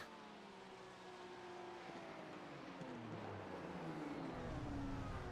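A race car in the iRacing sim at Sebring runs off the track, its engine droning steadily with a rising, sweeping pitch that builds slightly in loudness, heard alone without talk.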